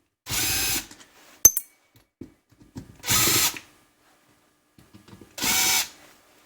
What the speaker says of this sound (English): now I'll get the power screwdriver